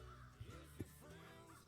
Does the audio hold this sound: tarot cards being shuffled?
no